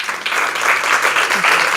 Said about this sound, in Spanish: Un aplauso para Caupolicán Ovalles